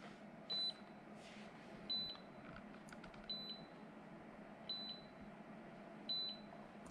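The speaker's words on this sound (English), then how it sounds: "It's beeping." A ReaSnow S1 controller adapter emits short, evenly spaced electronic beeps, five in all about every 1.4 seconds, faint against a quiet room hum.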